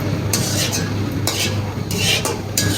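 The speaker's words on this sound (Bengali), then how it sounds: "একটু ঘি দিয়ে সেমাই ভেজে নেব।" Lachha semai vermicelli frying in village ghee, a steady loud sizzle broken by repeated scraping stirs of a spatula in the pan, with no voice.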